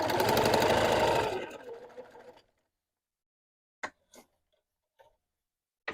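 A sewing machine stitches pieces of quilt fabric together in a quick, loud mechanical run that winds down and stops, followed by a few faint clicks and taps in near silence.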